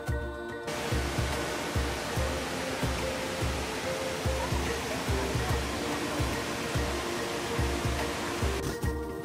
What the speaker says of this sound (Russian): Ну что, мы посмотрели на водопад, девичья коса.